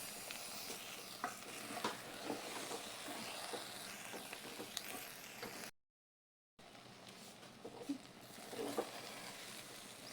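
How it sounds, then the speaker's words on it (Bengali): Rice frying in a pan with bay leaf, clove, cinnamon and cardamom, a steady close sizzle with soft stirring scrapes throughout, broken by a brief silent gap partway. "চালটা আমি এর সাথে সুন্দরভাবে করে ভেজে নিয়েছি"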